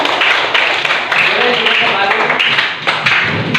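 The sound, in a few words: class clapping hands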